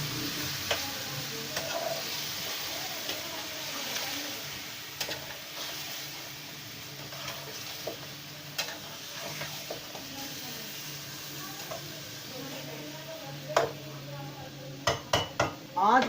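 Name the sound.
chicken being fried in a pot for biryani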